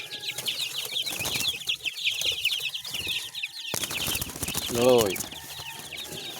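Chicks and chickens call and cluck while being fed at a backyard coop: thin high peeping runs throughout, a louder cluck rises near the end, wings flap, and a voice briefly speaks.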